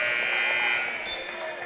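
A college basketball arena's end-of-half buzzer, Gordon State against Georgia Highlands, blares as a loud, sustained electronic horn lasting over a second, with crowd and commentary mixed underneath.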